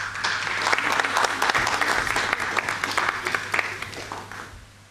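A business forum audience gives a round of applause, brisk and fairly close, with individual claps distinct in the dense patter before it thins out near the end.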